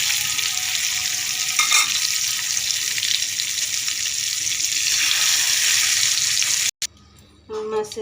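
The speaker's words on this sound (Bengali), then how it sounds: "বাকিগুলো এরকম করে হালকা করে ভেজে নেব।" Hilsa fish frying in hot oil gives a steady, loud sizzle that runs almost unbroken, then cuts off abruptly near the end, followed by a brief quieter stretch of kitchen clatter.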